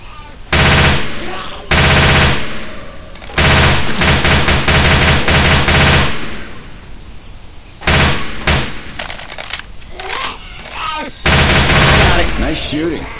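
Bursts of automatic gunfire in the zombie shooter game Left 4 Dead, loud rattling volleys in several separate runs with short gaps, ending in another long burst.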